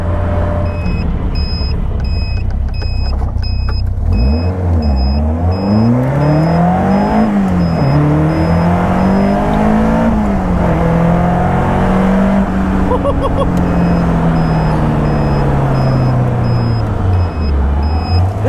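A road-legal Caterham 310R sports car engine revs hard and continuously, rising and falling through gear changes and corners. It is loud, close and on board, with a faint beeping tone at times.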